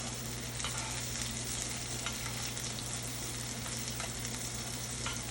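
A NY strip steak fries in a thin coating of butter in a cast iron pan, giving a steady, quiet, even sizzle that holds without pause and carries no talk.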